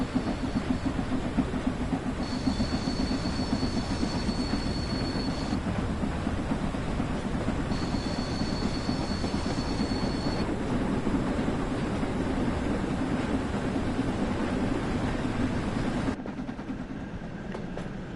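A train runs on the Riviera Line in the video game Train Sim World 6, pulling five carriages, with a steady rumbling roll and a faint whine, two sustained tones sounding briefly, then the roar drops sharply near the end.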